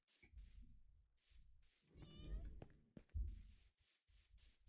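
A Minecraft cat meows a couple of times among intermittent bursts of game sounds and background noise, the mewing moderately loud and close.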